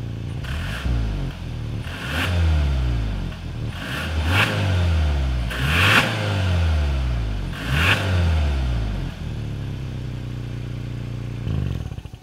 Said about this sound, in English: Then, as always, here is that exhaust clip.